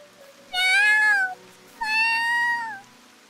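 A kitten meows twice, each a clear, drawn-out, wavering cry lasting under a second, close and loud against a quiet background.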